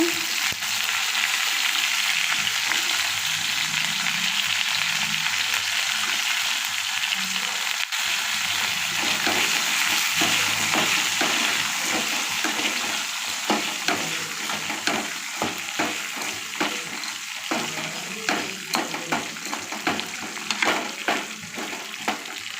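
Okra sizzles steadily in a hot pan with chillies, a constant close frying crackle overlaid with repeated scraping and clicking as it is stirred.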